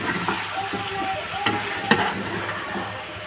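A spoon stirs chilli powder into masala frying in a pan, scraping softly in short strokes over a steady close sizzle, with faint talk in the background.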